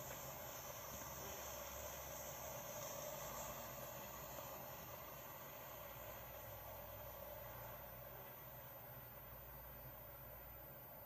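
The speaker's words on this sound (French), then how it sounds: "c'est l'avion qui donne les caisses de ravitaillement." A supply drop airplane in the PUBG Mobile video game flies over, a steady, droning propeller-engine roar that holds evenly throughout with no speech over it.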